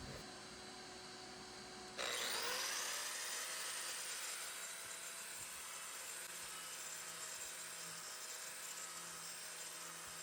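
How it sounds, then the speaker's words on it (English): A die grinder fitted with a carving disc hogs out walnut, starting with a steady motor whine, then jumping into a louder, sustained abrasive roar as the disc bites into the wood. "I went back to using the carving disc and hogged out some more of that walnut"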